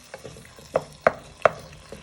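Pieces of beef fry in a pan until browned, with a soft continuous sizzle broken by several sharp clacks of stirring against the pan.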